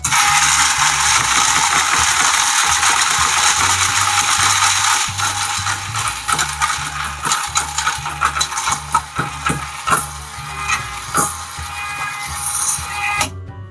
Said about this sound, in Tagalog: Pero dagdagan natin ng ibang coins.